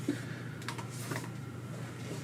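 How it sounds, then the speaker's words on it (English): A deck of playing cards riffle shuffled at a tabletop game session, heard as a few quick, close fluttering bursts of rapid card clicks over a steady room hum. "I know it looks like I'm just cutting the deck a lot, but I am doing the riffle shuffling"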